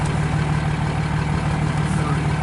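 CN westbound freight train with at least two locomotives approaching at Port Huron, Michigan, a steady, loud low diesel rumble that holds throughout with no break.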